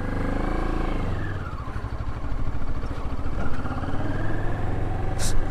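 A Moto Morini X-Cape 650 motorcycle pulls away in first gear, its engine note rising from a steady idle into a throbbing, revving acceleration close to the rider.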